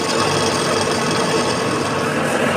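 A metal lathe faces the end of a workpiece with a continuous, even scraping hiss of cutting, steady and close with no talk.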